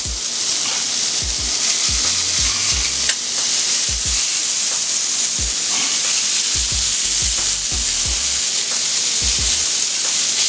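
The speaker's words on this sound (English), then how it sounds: "we're going to throw our hash browns over here where I got my butter waiting for the hash browns" Hash browns sizzling in butter on a flat-top griddle, a loud, continuous bright hiss with intermittent low knocks of a spatula working the potatoes, no one talking.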